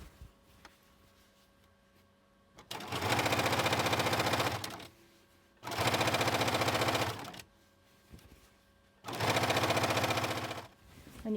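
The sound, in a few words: sewing machine stitching a king quilt binding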